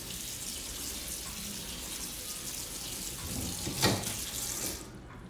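A kitchen tap runs cold water over shiitake mushrooms being washed in the sink, a steady even hiss throughout with a brief louder splash near the end before it quiets.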